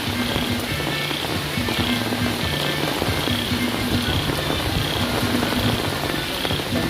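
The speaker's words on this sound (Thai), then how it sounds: "ลมแรงมากเลยนะคะคุณผู้ชม" Strong wind and heavy rain at an outdoor religious ceremony, a loud continuous roar and hiss that never lets up, with a rhythmic low pulsing underneath.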